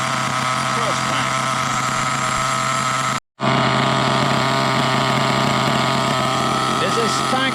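The nitro engine of an HPI Trophy Truggy 4.6 RC truck idles during break-in with a steady, high-pitched buzzing drone, cutting out for a split second before resuming just as loud.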